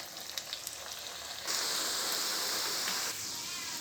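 Potato vadas deep-fry in hot oil, a steady close crackling sizzle that swells louder as a fresh piece drops in, then settles back to a bubbling hiss.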